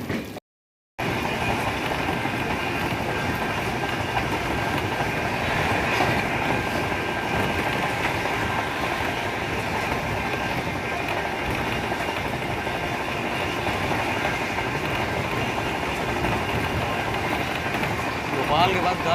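The Tamil Nadu Sampark Kranti superfast express runs at speed, heard from on board as a loud continuous rumble and clatter of wheels on rails, steady throughout after a brief gap at the start.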